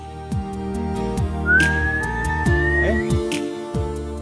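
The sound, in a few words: person whistling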